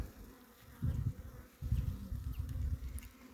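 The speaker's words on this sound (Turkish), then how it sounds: "Gördüğünüz gibi içi arı dolu." Close, dense buzzing of many honeybees in a hive, swelling in two louder bursts with a low hum between, no voices.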